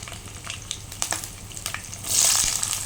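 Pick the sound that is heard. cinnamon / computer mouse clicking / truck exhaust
cinnamon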